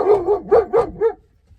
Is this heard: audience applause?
no